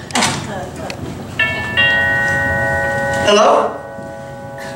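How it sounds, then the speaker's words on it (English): Two doorbell chimes ring clearly, their sustained tones overlapping and fading, right after a voice calls out. "That's the doorbell, dear, not the telephone."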